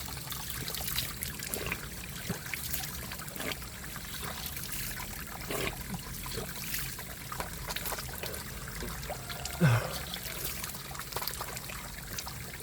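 Water runs freely from an open tap that cannot be shut off at a hillside drinking-water spot in Nepal, a steady even splashing flow heard alone throughout.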